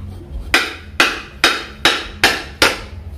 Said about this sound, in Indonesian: kita ketok pakai palu yang agak besar, jangan yang ringan karena nanggung